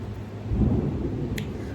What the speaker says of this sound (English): Oh, it is thundering.